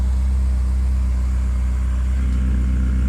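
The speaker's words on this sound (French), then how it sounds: "Échappement d'origine, et là on ouvre. Si j'appuie sur le bouton magique." A Ferrari California idles with its exhaust valve open, a loud, steady low-pitched burble with a throbbing rumble and no voices.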